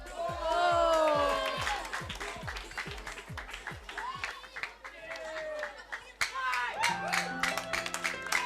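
Studio audience cheering and clapping for singers on an Indonesian comedy variety show. Bursts of whoops and applause rise and fall around the host's loud, lively talk, with music entering near the end.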